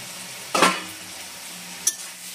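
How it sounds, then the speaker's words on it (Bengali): A spoon scrapes twice through a pan of Bengali chicken and mixed-vegetable curry as it cooks, two brief separate strokes over a quiet, low simmer. "একটু আবার নেড়ে দিচ্ছি ভালো করে।"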